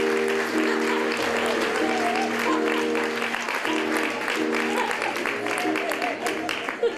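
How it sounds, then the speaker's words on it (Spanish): An audience at a community circus-themed theatre show in Aibar-Oibar applauds steadily for several seconds while music plays underneath and voices mingle. "Un fuerte aplauso para nuestro niño, Glotón!"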